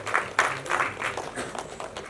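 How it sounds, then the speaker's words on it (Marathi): An indoor audience at a film cast reunion event applauds for the producers, a brief burst of scattered, moderately loud clapping from a small crowd. "त्यांच्यासाठी आवर्जून टाळ्या वाजवूया"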